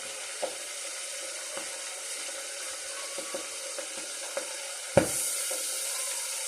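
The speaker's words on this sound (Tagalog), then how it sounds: "Ayan, narinig nyo po, pumuputok. Tumatalsik po yan pag walang takip." Oil popping and splattering in an uncovered pan while cooking sinigang, a soft steady sizzle broken by scattered sharp pops, ending in one louder crackling burst.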